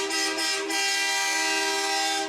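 Garbage trucks sound a loud, sustained horn blast at a Fourth of July parade in Santa Clarita Valley, a steady honk lasting the whole moment with no talking.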